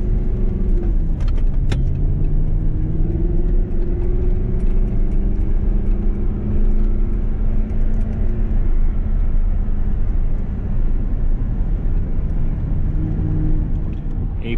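An Audi R8 supercar drives in third gear, its engine a steady, loud drone that rises slowly in pitch as it pulls, heard from inside the car without talk.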